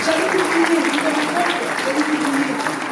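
An audience at a comedy show applauds in a dense, continuous wash of clapping, with voices mixed in underneath.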